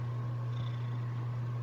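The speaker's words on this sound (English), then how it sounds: "I can hear you purring." A cat purrs in a low, steady, continuous rumble, close and soft, with no talking over it.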